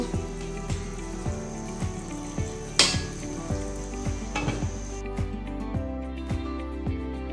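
Beef korma meat frying in a pot with ghee, a steady close sizzle under rhythmic scraping and stirring knocks, with one sharper clatter partway through.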